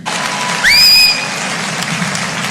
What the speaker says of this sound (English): Please welcome the great Jimmy Dore, jag-off comedian. Authors, give a round of applause.